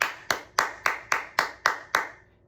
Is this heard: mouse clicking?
no